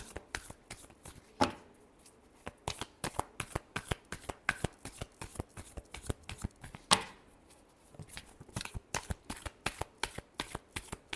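Tarot cards being shuffled by hand, a long run of crisp riffling snaps and flicks in quick irregular rhythm, close and clear, with no talk over it.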